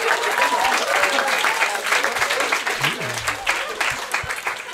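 Steady applause from a live stand-up comedy show audience, dense clapping filling the whole stretch at close range, with faint crowd murmur mixed in.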